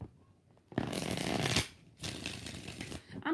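Tarot cards are shuffled in two close, rasping bursts, each lasting about a second, with a brief pause between them and no talking.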